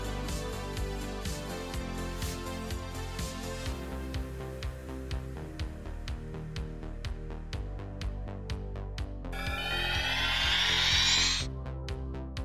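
A battery-powered circular saw squares up the edges of a hardwood end-grain cutting board, its loud whining cut lasting about two seconds near the end over a steady musical bed.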